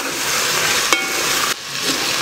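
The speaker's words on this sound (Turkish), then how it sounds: "Fasulyenin biraz kavrulmasını bekleyeceğiz." Beans with onion sautéing in a pot, giving a steady loud sizzle of frying, with a brief scrape of stirring partway through and no voices.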